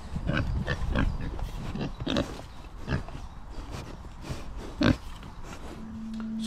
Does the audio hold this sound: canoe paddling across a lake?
no